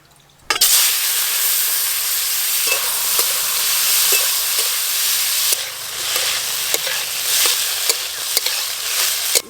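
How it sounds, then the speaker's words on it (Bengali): Potatoes and bitter gourd, coated in turmeric and wet with their own released water, hit hot mustard oil with a sudden loud sizzle that settles into a steady, close frying hiss, with occasional stirring clatters from the pan. "এবার আলু উচ্ছে ভাজি করব।"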